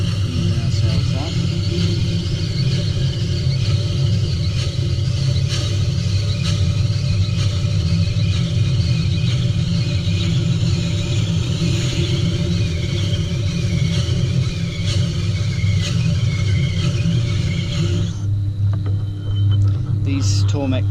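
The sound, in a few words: Tormek low-RPM grinder sharpening a Gränsfors Bruk axe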